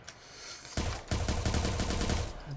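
Sniper rifle fire in a video game: after a quiet start, a heavy burst of rapid, loud gunfire rattles on for the remaining second and a half, dense and close with no talking.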